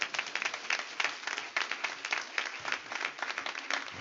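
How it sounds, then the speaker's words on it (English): Church congregation clapping hands in praise during a 25th anniversary worship service, a dense, steady wash of applause that carries on throughout without letting up. "Come on, let's give God a hand clap of praise."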